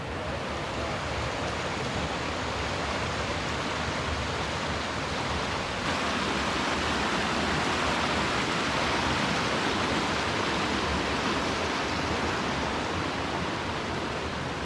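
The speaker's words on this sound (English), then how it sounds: "this is a big creek crossing." Large creek in the Great Smoky Mountains rushing steadily at a backpacking trail crossing, a loud, continuous broadband wash of flowing water with no pauses, filling the whole stretch alone without voices.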